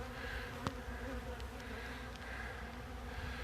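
A swarm of bees hums in a steady, close drone around a hive box, about ten thousand bees knocked loose from a limb, with one sharp tap near the start and no voices.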